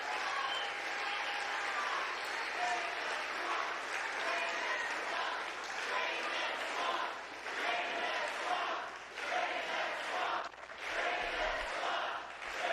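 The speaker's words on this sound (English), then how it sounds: "Drain the swamp, they're cheering." A crowd cheers and applauds in a steady, dense wash of noise that fills the whole stretch, with voices shouting over it and a brief dip near the end.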